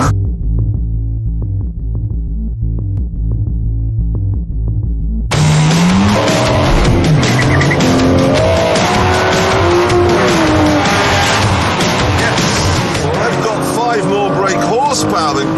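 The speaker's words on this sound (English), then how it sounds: "The first test we have is a simple drag race." Aston Martin Vanquish and Ferrari 575 launch in a drag race, a low engine throb giving way to loud roaring acceleration with rising revs, gear changes and tire squeal, close and sustained.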